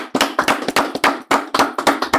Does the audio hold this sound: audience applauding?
yes